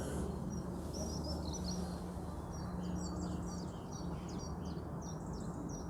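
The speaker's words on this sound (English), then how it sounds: "There's the Chiffchaff, believe it or not." A chiffchaff calls in spring: repeated thin, high chirps come in short bursts, fairly distant, over a steady low rumble of background noise.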